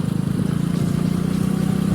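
Motorcycle engine running at a steady low rev as the clutch is eased out, giving a continuous close throbbing hum with no talk.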